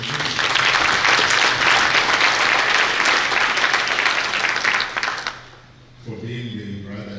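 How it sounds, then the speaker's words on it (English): A lecture audience gives sustained, loud applause that dies away near the end as a speaker resumes talking. "So I'd like us to have a round of applause to the Presley Foundation,"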